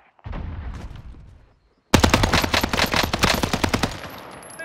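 MP40 submachine gun fire in Call of Duty Warzone: a short burst, a brief silence, then a long rapid stream of loud close shots with sharp evenly spaced cracks.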